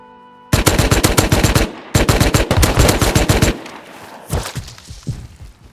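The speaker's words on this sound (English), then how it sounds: "Perfectly timed, they were shooting nearby," Bursts of automatic gunfire from nearby players in the survival game Rust: two long, loud rapid-fire strings of shots, a pause, then a shorter, quieter burst, with no talking.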